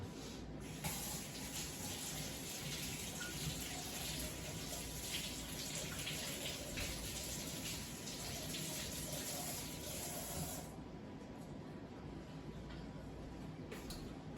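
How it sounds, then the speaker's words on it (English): Tap water runs steadily over fresh CSA-box vegetables in a sink, a close continuous splashing hiss that softens near the end. "I'm gonna just rinse them off real quick"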